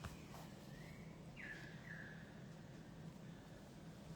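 Currawongs and magpies call from outside near a house deck, a few faint, distant whistling and warbling notes over a low steady background.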